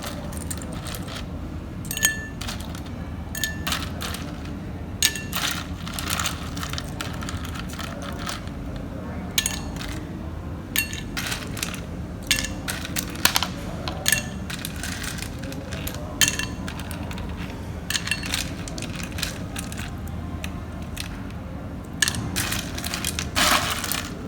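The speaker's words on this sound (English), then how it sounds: "Then fill it up with ice cubes." Ice cubes tumble and clink into a cocktail glass as it is filled, a long run of irregular sharp clatters and crunching knocks, close and fairly loud over a steady background hiss.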